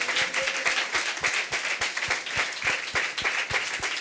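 A church congregation at a Sunday service on Independence Day claps together in a fairly steady rhythm, a dense run of close, sharp hand claps that lasts throughout with no talking.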